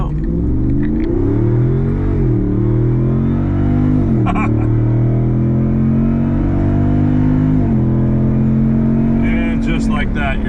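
A 2022 Jeep 392 one-ton trail rig with a stock engine, stock transmission and one-ton axles accelerates hard on 40-inch tires, its loud V8 roar climbing through rising gear sweeps with brief shift dips, heard from inside the cabin.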